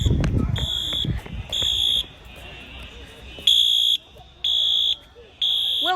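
A Wheelock Exceder fire alarm sounds during a middle school fire drill, harsh buzzing horn blasts in repeated on-off pulses of about half a second each, moderately distant, with voices speaking over the start.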